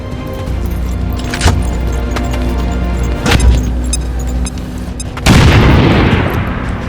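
A bomb blast in the XCOM 2 video game goes off after a couple of sharp impacts. It lands as a loud broadband burst and a rumbling decay, over continuous game background sound.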